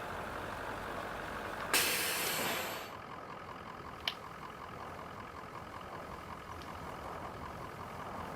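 A bus in the video game Three Fourths Home hisses loudly as its air brake releases, then the engine idles low and steady with a faint click, heard alone without talk.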